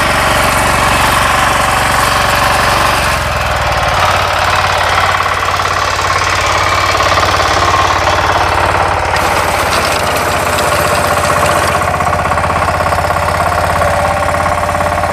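A small, modern wheat harvesting machine in a field in southern Morocco runs with a loud, steady mechanical engine drone and a rapid knocking rattle, continuous and close, with no voices.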